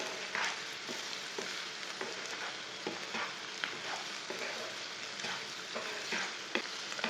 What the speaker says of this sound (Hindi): सब मसाले डाल के 2 मिनट तक भून लेना।